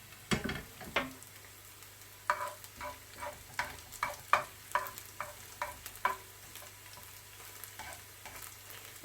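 Onions sauteing in a pan for a vegan lentil curry, a quiet steady sizzle with frequent soft scraping and stirring clicks from a utensil, close and uneven in rhythm.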